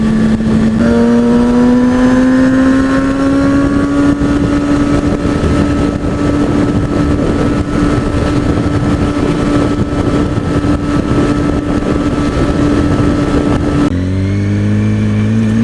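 A naked Kawasaki ZX-6R sport bike is ridden hard, its loud engine note rising steadily in pitch as it accelerates through the gears, then dropping sharply with a gear change near the end. The engine sounds close and continuous.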